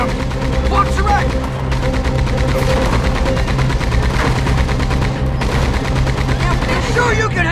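Rapid gunfire bursts ring out during a train robbery in the Red Dead Redemption 2 video game, dense and continuous over a rumbling moving train, with voices shouting underneath.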